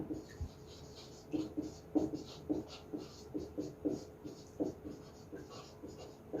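Chalk or marker tapping and scratching on a board as a teacher writes in a quiet classroom, a run of short strokes in an uneven rhythm.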